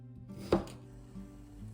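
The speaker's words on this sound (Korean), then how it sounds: "비트 반절을 깍둑 썰기 해줍니다." Beetroot halves are diced into cubes on a cutting board with a knife, giving one clear close chop followed by quieter light knocks in a quiet kitchen.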